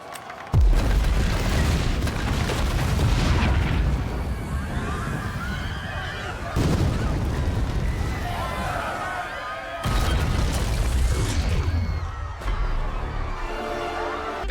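A deep boom from an explosion in the Marvel series Secret Invasion, with heavy low rumbling bursts around the blast over a loud, dense action soundtrack while a narrator talks throughout.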